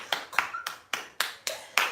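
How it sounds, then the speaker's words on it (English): Self-applause from bare hands clapping after a yoga handstand attempt: seven sharp, fairly close claps at an uneven, slightly slowing rhythm, each a crisp slap with a short decay, heard alone without talk. "I gotta give myself a round of applause"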